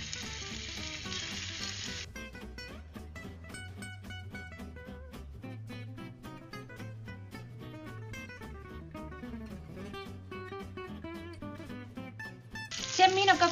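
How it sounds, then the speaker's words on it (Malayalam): Marinated prawns, rubbed with salt, pepper, chili powder and vinegar, fry in oil. A quiet sizzle bursts in at the start and again at the end, with music playing through the middle. "ഫ്രൈ ചെയ്തെടുക്കാം."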